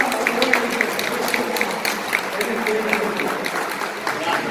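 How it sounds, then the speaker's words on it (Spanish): An audience gives a warm round of applause during a visit to a community, steady clapping at moderate volume with murmured voices mixed in. "Con un aplauso grande."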